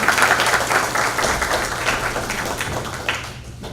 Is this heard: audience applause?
yes